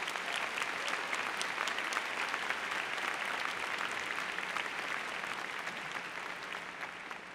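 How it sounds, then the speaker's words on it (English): An audience at a 2009 university journalism and communication commencement ceremony claps in steady, dense applause that carries on evenly and gradually tapers toward the end, heard at a moderate distance. "So I'd like to ask for a round of applause for all of those people."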